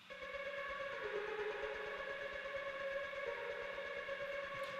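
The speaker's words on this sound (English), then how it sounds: "add a little bit of a revolving texture into it, and it sounds like this" A revolving texture sample from Splice, heavily manipulated for a music track: a sustained, steady tonal drone with layered harmonic bands and a soft pulsing low throb, continuous and fairly quiet throughout, no voices.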